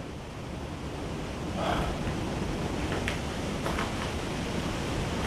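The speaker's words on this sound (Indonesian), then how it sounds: "Di luar anginnya gede banget" Strong wind gusts outside a house, a steady broadband roar that swells midway with faint rushing bursts, no talk heard.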